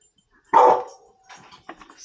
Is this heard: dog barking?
yes